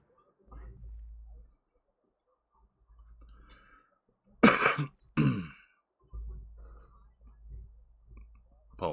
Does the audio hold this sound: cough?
yes